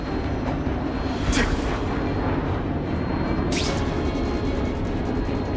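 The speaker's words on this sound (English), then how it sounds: "especially when I bomb you" Bomb explosions in The Amazing Spider-Man 2 video game, a steady roaring rumble with a couple of sharp blasts standing out, loud and continuous with no talk.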